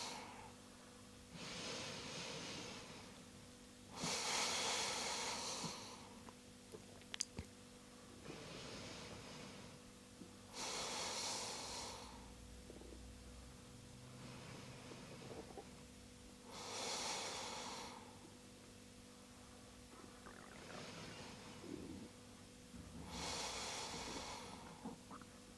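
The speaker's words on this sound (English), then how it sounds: "And we'll take 5 deep breaths." Slow, deep breaths during a supine twist in an advanced vinyasa yoga class, each long inhale and exhale rising and fading in a steady rhythm several times, close and quiet with no talking.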